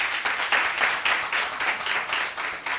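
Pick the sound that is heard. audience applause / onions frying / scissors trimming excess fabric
audience applause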